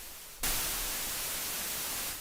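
Steady broadband white-noise hiss from the Ableton Analog synthesizer switches on abruptly after a short quiet moment and holds evenly, loud and unbroken, to the end.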